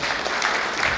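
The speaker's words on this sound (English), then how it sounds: "I think that deserves a round of applause." An audience at a live talk-show event claps in a brief, dense burst of steady applause.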